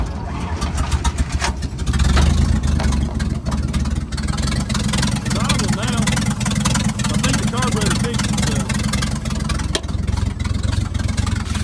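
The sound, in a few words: 1950s Dodge dump truck engine starting and running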